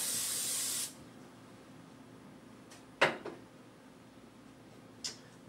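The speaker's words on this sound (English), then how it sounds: "shake up your pan and spray well so it doesn't stick" Cooking spray hisses from a can into a pan in one loud burst lasting under a second, before cooking breakfast; a couple of faint clicks follow in a quiet room.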